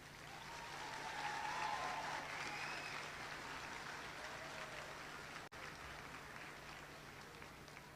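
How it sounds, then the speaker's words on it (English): An audience applauds graduates at a 2021 high school graduation ceremony for Prestonsburg High School, a steady, faint wash of clapping heard from a distance. "let's give our graduates a big round of applause again"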